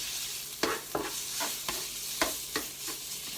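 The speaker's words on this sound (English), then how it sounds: "Okay, so we have our bacon cooking." Bacon frying in a pan with a continuous crackling sizzle, punctuated by several sharp scrapes and taps of a utensil stirring at irregular intervals, close and with no speech.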